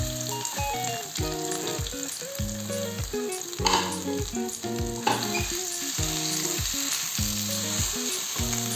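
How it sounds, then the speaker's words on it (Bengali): Bread pakora filling fries in hot oil, a loud, continuous close sizzle with occasional stirring scrapes, while a rhythmic tune plays along underneath and no one speaks. "অল্প অল্প ভেজে নিলেই হবে"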